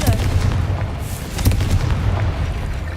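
Confringo fire spell going off in Hogwarts Legacy: a heavy, booming burst with rumbling low blasts that swell and fade, one stronger hit midway, loud and continuous through the moment.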